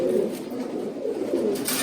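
Pigeons cooing up close on a pigeon farm in Feni, Bangladesh, in a low, throaty, repeated rhythm, with no talking.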